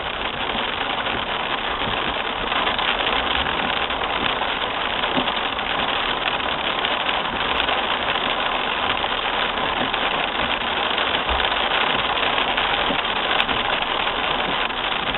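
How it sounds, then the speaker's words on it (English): Dense, steady drumming of hailstones on the roof and windshield of a Jaguar X-Type, a constant hard patter over a low engine hum, with no speech. "Got the hailstorm."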